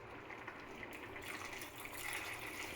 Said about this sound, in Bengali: এবার আমি এখানে দিয়ে দেব পানি